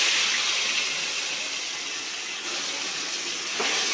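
Fish pieces fry in hot oil for a fish curry, producing a dense, continuous hiss that holds steady at a moderate level, close by and with no talk.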